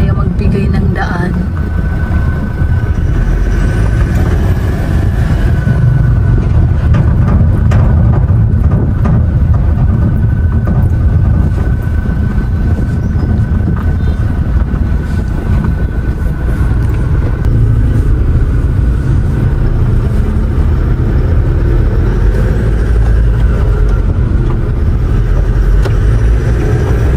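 Congested road traffic, a continuous heavy rumble of car, truck and motorcycle engines close by throughout, with speech now and then over the din.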